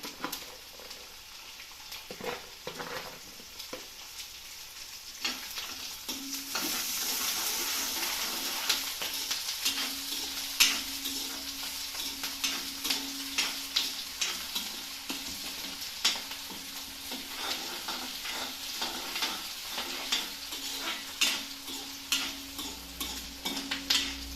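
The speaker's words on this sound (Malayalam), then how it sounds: "നമ്മളെ ചെറുതാക്കി അരിഞ്ഞിരിക്കുന്ന പച്ചമുളക് ഇട്ട് കൊടുക്കാം." Chopped green chilies frying in a pan for pickle, a steady sizzle with repeated stirring scrapes and light clicks, close and continuous with no talk.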